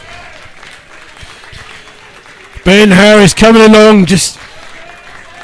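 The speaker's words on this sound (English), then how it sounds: "Matty Stevens getting a round of applause" A football crowd at a Slough Town versus Sutton United FA Cup replay bursts into loud applause and cheering for a player, two swells over a couple of seconds after a commentator speaks.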